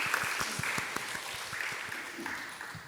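A church congregation gives a round of applause of love and encouragement during a Wednesday service, the rhythmic hand claps moderately soft and slightly distant, lasting a few seconds.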